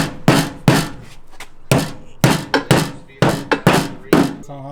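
Hammer blows flattening the inner lip of a wheel arch on an EF Honda Civic, about ten sharp metallic strikes in irregular bursts, close and loud, with a brief voice at the end.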